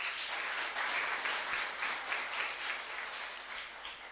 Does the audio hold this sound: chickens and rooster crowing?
no